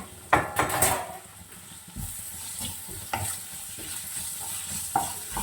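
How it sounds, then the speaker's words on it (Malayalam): Sliced onions being stir-fried in a pan, with a spatula scraping and clacking in irregular strokes over a continuous close sizzle. "സവാള കട്ട് ചെയ്ത് വെച്ചിരിക്കുന്ന ചേർത്ത് കൊടുക്കുന്നുണ്ട് കേട്ടോ"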